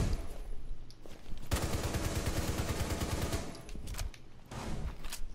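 Sustained bursts of rapid automatic gunfire in a first-person shooter video game, loud and dense for several seconds, with scattered single shots before and after.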